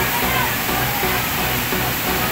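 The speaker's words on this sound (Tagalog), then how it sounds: "Ang lakas ng falls, mga lods." Collago Falls in Lagayan, Abra, a powerful freshwater waterfall, roars as a loud, steady broadband rush of crashing water close by, unbroken throughout.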